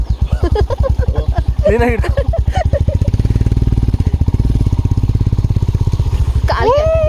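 A motorcycle engine putters steadily and loudly up close, with a voice speaking briefly over it near the start and again at the end.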